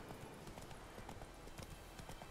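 Steady clip-clop of horse hooves from The Witcher 3: Wild Hunt, a quick even rhythm of hoofbeats continuing throughout at moderate loudness, with a faint wash of background noise.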